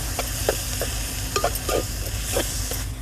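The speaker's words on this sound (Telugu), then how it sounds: "ఇప్పుడు వీటన్నిటిని బాగా వేగనివ్వాలి." Green chilies and curry leaves fry in a pan for a Telugu raw cashew and mango curry, a steady close sizzle with soft clicks and scrapes of stirring, no voices.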